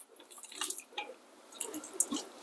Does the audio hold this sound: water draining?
yes